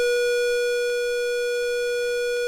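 An ARP 2600 synthesizer with oscillator VCO1 routed through a wide-open filter, giving a steady, sustained buzzy tone with a fixed pitch that holds without a break, with faint clicks at intervals.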